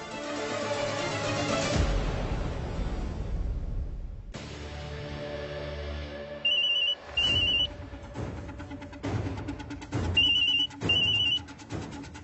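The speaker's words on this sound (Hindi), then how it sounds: "ये रिंगटोन।" An electronic phone ringtone plays in repeated short bursts with pauses between, following a stretch of music.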